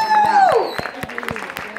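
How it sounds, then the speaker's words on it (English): A short patch of scattered clapping from an audience, with a high whoop over the first half. "that round of applause for Courtney for putting this together"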